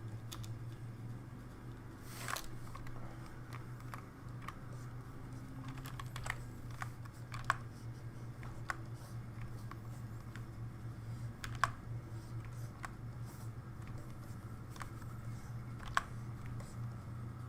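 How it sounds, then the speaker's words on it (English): A computer keyboard is typed on close to the microphone, with sparse, soft key clicks and a few sharper taps spread over a steady low room hum. "Wait, is there actually clicking, or it's just my keyboard?"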